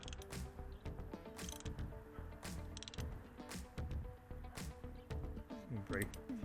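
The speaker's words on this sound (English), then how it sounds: "We're going to tighten up this post, get it snug." A wrench tightens the battery terminal post on a Toyota Camry, with quick close ratcheting clicks in short bursts amid clanking metal, while a voice talks over part of it.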